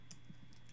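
A few soft, scattered keystrokes on a computer keyboard, typed quietly up close with no talk over them.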